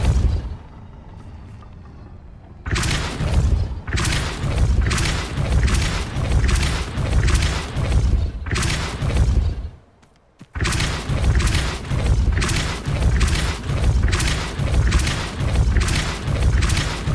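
Repeated booming spell blasts from Hogwarts Legacy combat, a steady run of loud, closely spaced impacts with a brief lull before the volley resumes, no talk.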